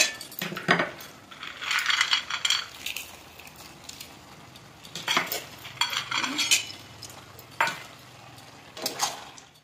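Fried lentil dumplings tipped into a pan of cooked spinach clatter with sharp metallic clinks and scrapes of a spoon against the pan, coming in several bursts with short pauses, close and fairly loud, with no voices.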